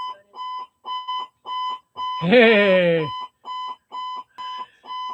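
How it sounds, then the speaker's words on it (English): A fire alarm beeps in a steady repeating pattern of short, regular tones, loud and close, briefly interrupted by a person's spoken word. "about the fire alarm going off"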